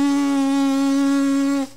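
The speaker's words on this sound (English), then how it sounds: "Direct a full airstream through the center of your lips, and you should create a buzzing sound." A sustained buzzing tone from lips blown without a mouthpiece, as for French horn practice, holding one steady pitch with rich overtones for about a second and a half before stopping abruptly.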